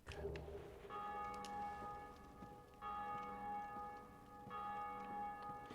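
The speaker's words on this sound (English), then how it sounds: "It is cool to hear the bell constantly ringing." A church bell tolls in Dark Souls, struck three times at steady intervals with bright ringing overtones that linger between strikes, heard fairly clearly over a low, quiet game background.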